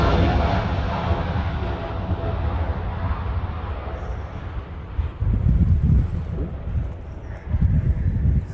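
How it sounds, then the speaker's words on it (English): Wind gusts buffet the microphone at an outdoor airfield during the Sentry Aloha exercise with the Hawaii Air National Guard, a rough, rumbling roar that swells in two stronger bursts near the end. "wind gust caught me off guard"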